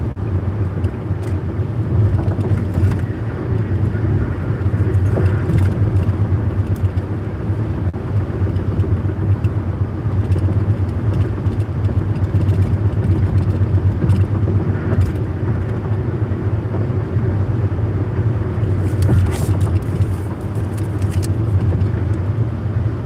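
A car cruising at highway speed past lakes, with a steady low engine and road rumble heard from inside the cabin and a few faint rattles, continuous and close, with no talking.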